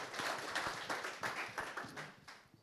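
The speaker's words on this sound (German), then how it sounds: "Applaus." Modest clapping from a small audience at the opening of the Atlassian Enterprise Club 2018, fairly quiet and thin, with separate hand claps audible in an uneven rhythm that fades toward the end.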